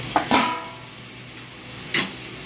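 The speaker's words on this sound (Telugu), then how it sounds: "కట్ చేసి పెట్టుకున్న బంగాళదుంపలు వేసుకొని బాగా కలుపుకోవాలి." A spoon stirs cut potatoes and brinjal into softened tomatoes in a pan. A few scraping strokes stand out, the loudest near the start and one more later, over a soft, low sizzle.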